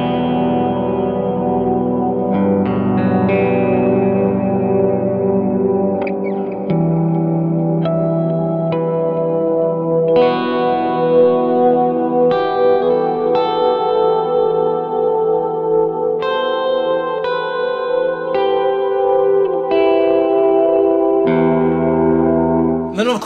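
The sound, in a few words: electric guitar SG with ethereal effects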